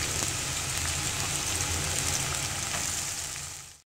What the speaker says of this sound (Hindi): वाइट प्याज डाल के इसको सौते कर लेना है।